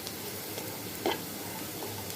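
Small red potatoes and onions fry in a pan until browned, giving a steady, dense sizzle close up. A brief clink or stir lands partway through.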